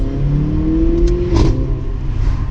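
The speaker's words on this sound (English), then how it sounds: "that's quite a nice noise. That was a really nice noise. And for a 2 litre as well." A 2-litre hot hatch engine revs up loudly and close, its exhaust note rising in pitch with a throaty roar before settling.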